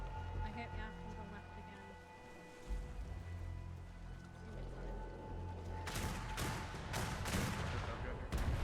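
Mortar fire in a naval combat video game booms in a rapid cluster of heavy blasts toward the end, after a quieter stretch of engine-like drone and game sounds, with voices talking over the action.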